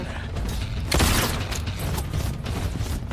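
Torpedo special move from a Mortal Kombat 1 tournament match, a dense whooshing mechanical burst with a louder rush near the one-second mark, set among continuous game effects and crowd-like background noise.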